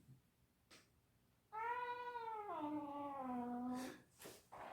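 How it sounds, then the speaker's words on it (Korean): A cat gives one long, drawn-out meow that bends downward in pitch. It is clear and close, set against quiet room noise, with a few short thumps around it. "바로 지금 이것이 바비의 야옹 소리를 알아차리는 거예요."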